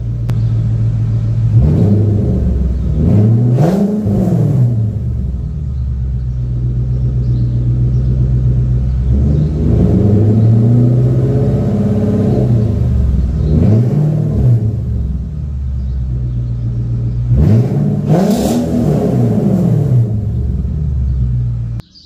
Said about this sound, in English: So I'll just rev it and then we'll see how it sounds.